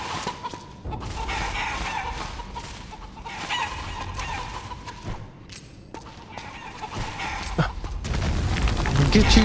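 Chickens cluck and a rooster crows repeatedly in Metal Gear Solid 4, the bird calls recurring over a steady game soundscape, with a player's voice talking over parts of it.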